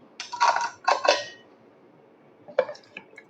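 Ceramic bowls or plates are handled in a home kitchen while making idli. Two quick clusters of clinks and scrapes come close together, then a single knock after a pause. The sounds are fairly close and stand alone.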